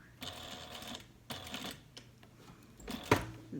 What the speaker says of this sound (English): we're going to do that same reinforcement stitch at an angle